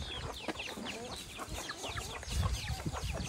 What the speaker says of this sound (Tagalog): At makikita mo yung mga manok ni Kuya George.